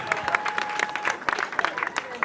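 Audience applause at a customary ceremony, a steady patter of many clapping hands kept up over a couple of seconds, with voices talking over it.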